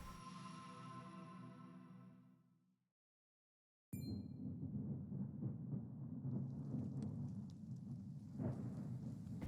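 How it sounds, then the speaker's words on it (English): Steady rain hisses in a video game scene, with low rumbling thunder. Soft musical tones fade out first, then near silence, then a constant rain wash with small swells and a sharp crack at the end. "Rain. Honest to goodness, rain."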